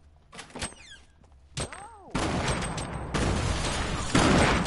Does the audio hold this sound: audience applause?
no